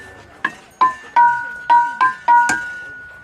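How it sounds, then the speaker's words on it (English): An aluminium tongue drum is struck with a mallet, six clear ringing tones in an uneven rhythm, each with a sharp attack and a sustained metallic decay, close and loud with no talking. "Tap tongue in aluminium."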